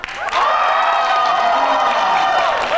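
Studio audience on a Vietnamese TV show bursts into loud applause, cheering and whoops that swell after a short quiet start and hold steady to the end.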